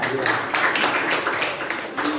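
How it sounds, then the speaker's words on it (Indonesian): Students in a classroom clap for a classmate in a short burst of crowded, overlapping applause, with talking mixed in. "Tepuk tangan buat Wirda."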